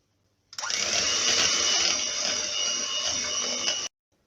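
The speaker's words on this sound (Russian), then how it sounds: "Сливки и сыр добавляем в чашу миксера. Добавляем сахарную пудру и ванилин. И все взбиваем до устойчивого состояния" A stand mixer whipping cream with cheese, powdered sugar and vanillin gives a loud steady whirring motor drone that starts abruptly, runs for about three seconds and then cuts off.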